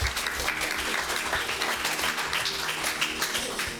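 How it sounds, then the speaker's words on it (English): Dense, continuous audience applause fills a conference room at a Horn of Africa women's forum in Vienna, many hands clapping at once for a speaker, loud and sustained for nearly four seconds. "And one more applause for her."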